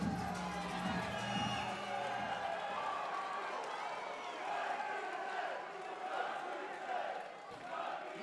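A crowd at a Cage Warriors MMA event keeps up a steady, distant roar of noise and murmur, with a brief low thumping early on and no clear cheering peaks.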